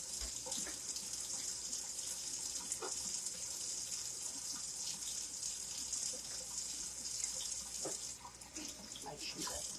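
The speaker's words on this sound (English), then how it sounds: "So you're just really going to wash those potatoes really well." Hot tap water runs steadily into a kitchen sink while potatoes are scrubbed for a Mexican corn potato soup, a continuous close splashing hiss with small knocks of handling, no talk over it.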